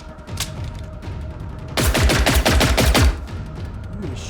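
Gunfire from a hunter robot in Generation Zero: a rapid, loud burst of automatic shots about a second long, preceded by a single faint shot over a quiet game background.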